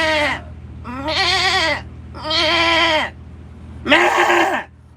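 A person imitates a sheep with four loud, wavering bleats, each about a second long and separated by short pauses, over a steady low hum.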